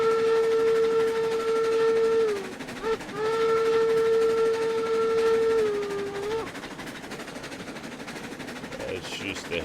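A steam locomotive whistle in the railroad game RailRoads Online blows two long, loud, steady blasts with a brief break between them, while rail and engine rumble continues underneath.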